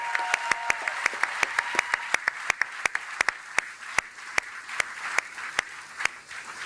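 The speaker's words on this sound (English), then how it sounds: "Let's give all these workers one big round of applause one more time." Ford factory workers at a Louisville plant announcement are applauded by a crowd, with distinct, spaced claps ringing out over a low hall murmur, moderately quiet and steady throughout.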